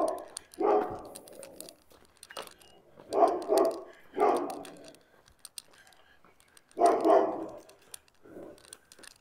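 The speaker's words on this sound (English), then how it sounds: "Deep bark." A dog barks deeply outdoors near Rotary Park and Regina Avenue in Regina, letting out about five heavy, separate barks at irregular intervals with quiet gaps between them.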